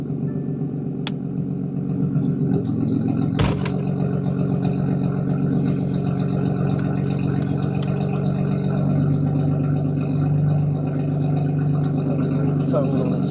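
A modified BMW M2 Competition with a titanium exhaust idles after a cold start, a steady loud low rumble with one sharp burst midway; voices talk over it throughout.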